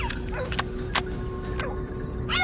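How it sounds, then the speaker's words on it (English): Hunting dogs chasing a feral boar through forest near California farm fields, barking and yipping in quick, overlapping bursts, fairly close and loud, with a few whimpering cries among the barks. "The dogs picked up a scent and quickly flushed a boar from deep in the forest"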